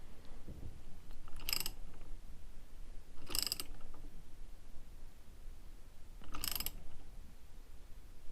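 A ratchet wrench with a deep socket working on the magneto of a BSA B31 motorcycle gives three short, crisp bursts of clicking, spaced a couple of seconds apart over quiet background.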